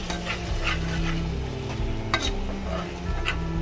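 A spoon stirs and mixes biryani ingredients in a pot over the heat, with sizzling, frying crackle and repeated scraping strokes close by.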